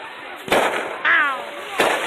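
Fourth of July fireworks on Cape Cod go off as three sharp bangs at roughly half-second intervals, each trailing a crackle, with a whistling streak in the middle and people talking faintly underneath.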